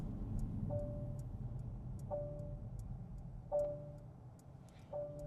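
Repeated warning beeps from the MB.DRIVE driver-assist system in a Mercedes CLA, four evenly spaced tones over steady cabin road noise inside the moving car.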